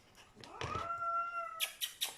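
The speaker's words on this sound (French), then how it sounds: "Non, monsieur Ron, on souffle pas près le chaton." A cat vocalizes near a kitten: a drawn-out, wavering cry that rises and holds, followed by a few short, sharp bursts, close and fairly quiet with no talking.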